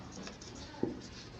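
Handwriting on a board or page while working through a rational number math problem, soft faint scratching strokes with one brief louder tap in the middle, no voices.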